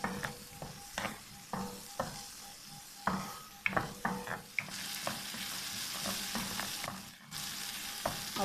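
Fried onions sizzling as they are stirred in a pan for chicken jalfrezi, with irregular spatula scrapes and clinks over a continuous frying hiss and no talking.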